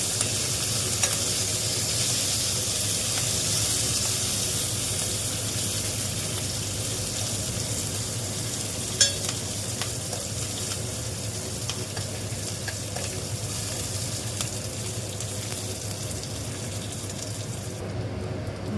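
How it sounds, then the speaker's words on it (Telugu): Continuous oil sizzling and crackling fills the clip, steady and close, with a few faint clinks of stirring, as curry leaves and spices are tempered in hot oil for tamarind rasam. "అయిందండి ఇది తాలింపు."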